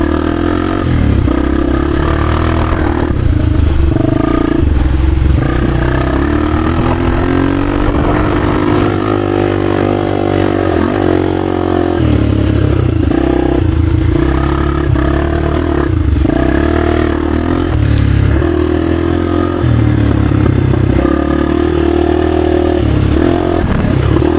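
A 1996 Honda XR250 dirt bike ridden through woods, its single-cylinder engine loud and close throughout, rising and falling in revs with the rattle and clatter of the ride over rough ground, no talk.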